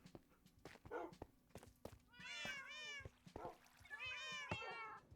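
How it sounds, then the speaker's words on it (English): Cats in the Minecraft video game meow in two long, loud wavering calls, mixed with horse neighs, clip-clopping hooves and occasional thunks from play. "Oh man, those cats are so loud."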